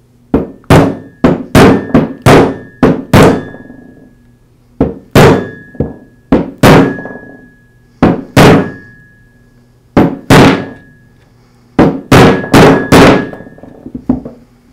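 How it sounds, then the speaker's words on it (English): A socket used as a drift taps a new bearing onto the shaft of a Porter Cable 690 series router, giving sharp metallic thunks in quick clustered bursts with short pauses between groups, close and loud, no voices. "using a socket the same diameter as the inner race on the bearing, I'll tap it into place"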